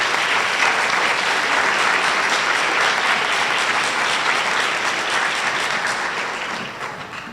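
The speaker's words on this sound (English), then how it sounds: "Let's give a round of applause to our fifth graders" An audience at a district spelling bee applauds fifth-grade contestants with full, continuous clapping that fills the hall, holding steady before fading slightly at the end.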